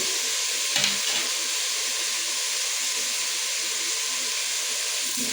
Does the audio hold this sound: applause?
no